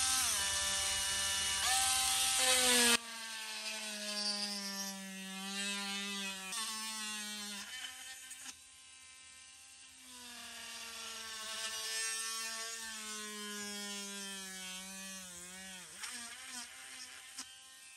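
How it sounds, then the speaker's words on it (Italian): A rechargeable 3.7V mini engraving pen, fitted with its supplied drill bit, bores a hole in a piece of plastic. Its close, continuous high motor whine runs about eighteen seconds, the pitch sagging and recovering as the bit bites, with no talking. "proviamo a fare un foro su questo pezzo di plastica con la punta di trapano che viene data in dotazione"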